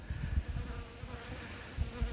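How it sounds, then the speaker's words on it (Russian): Restless honeybees buzz at an open hive on a breezy day, a dense continuous hum of many wings close by, soft but unbroken and without speech. "Неспокойные пчелки."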